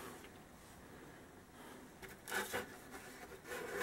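A plastic motorcycle front mudguard for a Suzuki Hayabusa gets its cut, melted edges smoothed with sandpaper: a faint, close scraping rub that builds into a few louder strokes toward the end, with no talking.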